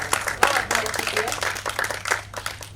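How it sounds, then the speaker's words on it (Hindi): An audience at a mushaira poetry gathering breaks into a burst of hand clapping, dense and lively, with voices talking over the applause. "एक बार तालियां बजा दीजिए"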